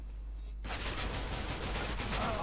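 Automatic gunfire in Counter-Strike: Global Offensive erupts after a brief quiet moment and continues as a loud, unbroken spray of rapid shots to the end, with no talk over it.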